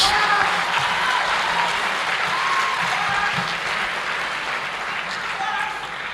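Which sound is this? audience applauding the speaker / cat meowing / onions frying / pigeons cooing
audience applauding the speaker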